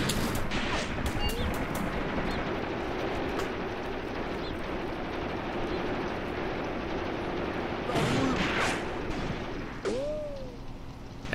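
Sustained rattling gunfire and bursts from a WWII tactical battle in Graviteam Tactics, dense and continuous across the scene with a few louder shots standing out, no voices present.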